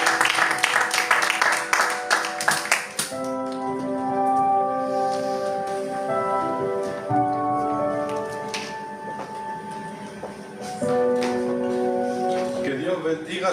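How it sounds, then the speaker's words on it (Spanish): Congregation applause in a church service for the Lord, dense clapping at the start giving way to sustained organ or keyboard chords that carry on under it, fairly loud and close. "Así que dar un aplauso al Señor"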